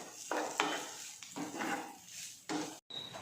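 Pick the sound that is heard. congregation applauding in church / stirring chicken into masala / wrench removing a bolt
stirring chicken into masala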